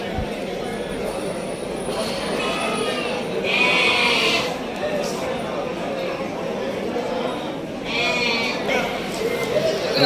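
Sheep bleat twice, a few seconds apart, at a sheep market, over a noisy outdoor background with murmuring voices.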